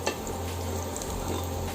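Coriander leaf pakoras frying in oil over a medium flame, a soft continuous sizzle with a faint bubbling texture and a light clink of utensils near the start.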